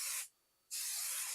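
Two loud bursts of adhesive spray from an aerosol can onto embroidery fabric, split by a short silent pause.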